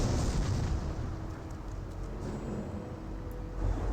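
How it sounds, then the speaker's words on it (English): A landmine or mortar blast in the World War II strategy game Company of Heroes, a heavy low rumbling boom that fills the moment and slowly settles into a dull roar, with no talk over it. "Did I hear a landmine detonation, or was that a mortar?"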